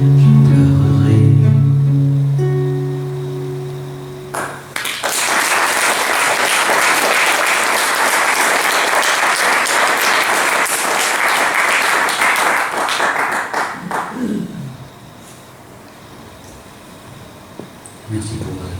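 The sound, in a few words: audience applause after song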